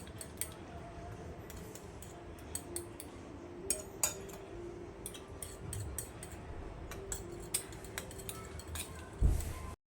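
A fork clicks and taps against a bowl while it beats egg batter for bread pakoda, giving soft, irregular clinks at close range.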